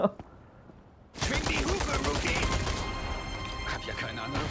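Rapid gunfire from the Red 9 pistol in the Resident Evil 4 remake, a dense burst of shots starting abruptly after a quiet moment and continuing loudly, with a voice faintly heard at the start.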